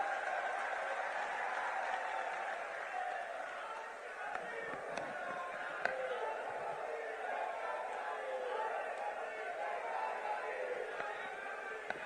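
Crowd applause and cheering at a public rally in Dhar welcoming Priyanka Gandhi, a steady roar of clapping and voices from a large gathering, heard at a distance.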